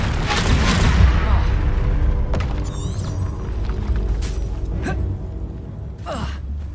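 Expelliarmus cast in Hogwarts Legacy, a few sharp magical cracks and whooshing bursts over a rumbling battle backdrop, with grunts and gasps from characters mixed in.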